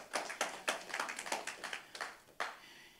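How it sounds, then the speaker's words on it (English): A church congregation claps in a quick, steady rhythm, the crisp hand claps sounding fairly faint and somewhat distant in a quiet room, with one louder clap near the end. "give the Lord a clap offering"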